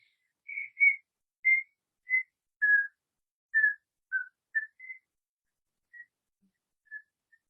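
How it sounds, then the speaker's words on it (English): A person whistles a series of short, clear notes, pausing between them, alone and close with no background noise. "Now whistle again."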